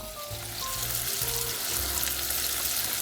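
Bread frying in melted butter and seasoning in a pan hisses in a loud, continuous, close sizzle with a few faint low scraping sounds over its three seconds.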